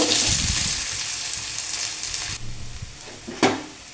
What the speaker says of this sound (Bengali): এটা একটু লাল করে ভেজে নেব